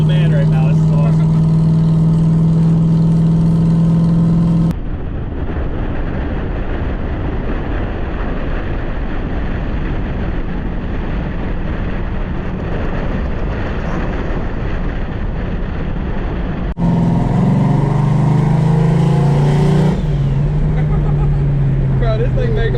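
Turbocharged LS-powered car driving past at a drag-and-drive street event, its engine note loud and steady with strong rumble and rising revs, wind buffeting the microphone and voices talking over it.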